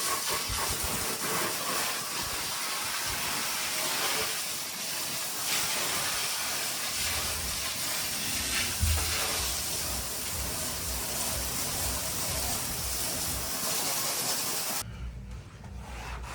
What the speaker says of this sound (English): Can you put the hose on mist?